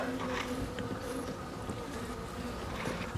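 Honeybees buzz around a frame lifted from the hive, a dense steady drone of many insects close by with no voices.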